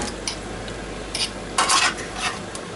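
Carrots and parsnips tossed and stirred through hot roasting juices in a pan, with a run of scraping, sizzling bursts of metal on metal that grow louder for a moment, then ease, close by and with no talk.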